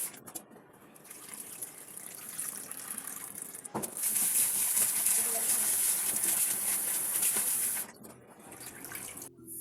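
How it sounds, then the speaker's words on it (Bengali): Chopped potatoes and carrots are washed under a running kitchen tap, a steady broadband rush of water that grows louder and fuller midway, then eases with splashing at the end. "এখন এই গাজর এবং আলুগুলো যে কেটে রাখছিলাম এগুলো আমরা একটু ধুবো ভালোভাবে।"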